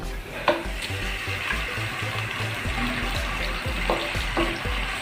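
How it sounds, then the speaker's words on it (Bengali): Marinated mutton dropped into half a cup of hot oil in a cooking pot for mutton biryani, giving a steady close sizzle and spatter with a few sharp crackles and pops, no voices. "এই পর্যায়ে আমি সেই মেরিনেট করা মাটনগুলো দিয়ে দিচ্ছি"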